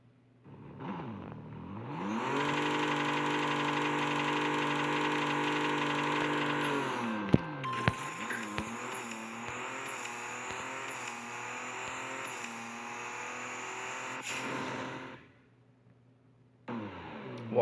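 A Koenigsegg One:1 engine in a racing game on a test run: a loud, steady roar climbs through the revs, drops briefly at a gear change, then pulls again before cutting off near the end.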